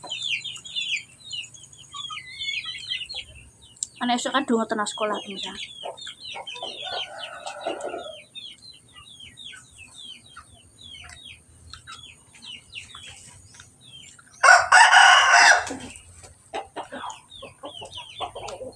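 Chickens cluck and chatter continuously in the background of an outdoor breakfast spot, with a louder burst of fowl calls partway through and a brief voice speaking nearby.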